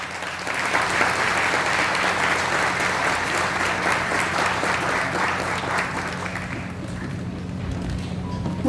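A crowd applauds at an agribusiness lecture in Patos de Minas, Brazil, welcoming the speaker. The clapping is steady and full for about seven seconds, then tapers off.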